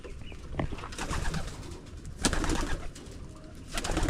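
Pigeons at a pigeon loft give soft, repeated throaty coos over a busy background of rustling and scattered chirps, close and moderately loud.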